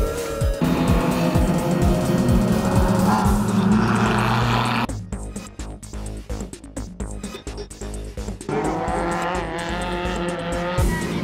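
A classic rally car of the type that won the 1973 world rally championship, driven at a retro motorsport event, roars under hard throttle as it drifts, with tire squeal. The engine note dips briefly midway, then surges again, loud and close.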